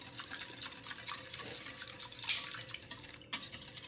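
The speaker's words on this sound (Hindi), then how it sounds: "अब मैंने शुगर को अच्छे से मिक्स करना है और साथ ही इसमें मैंने दूध डालते जाना है।" Sugar and milk are stirred in a bowl for French toast, a steady scraping and clinking of a utensil against the dish with soft liquid sloshing, close and quiet.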